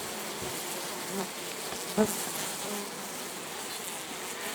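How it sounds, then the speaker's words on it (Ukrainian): Honeybees crowd an opened clay-daubed wicker hive, producing a faint, steady insect drone that persists throughout with one brief soft knock midway. "Відкриваємо. Ось тут так. Бджіл повно."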